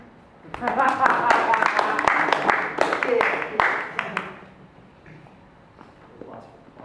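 Audience applause at a San Antonio OpenStack meetup, a dense burst of clapping that swells for about three seconds, then thins to scattered claps before fading into room noise.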